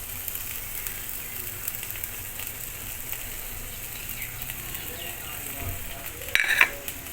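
Masala for a Bengali katla fish kalia frying in a pan, a faint steady sizzle with soft stirring scrapes and a brief clatter near the end.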